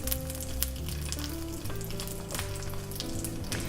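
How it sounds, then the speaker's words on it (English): Thinly sliced scallops sizzle steadily on a Korean seafood pancake in a hot pan, a close continuous frying hiss with background music playing underneath. "So I'm gonna put down about 3 thinly sliced scallops."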